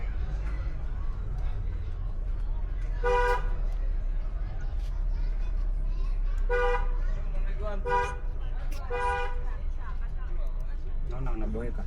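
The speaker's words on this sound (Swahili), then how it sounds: "Piga honi sana." Car horns honk in busy traffic at Pipeline Estate, several short toots and a quick double blast over a steady engine rumble and street noise, fairly distant, with people talking.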